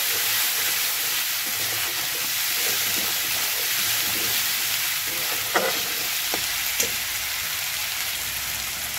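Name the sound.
frying spices with Kashmiri chili in pan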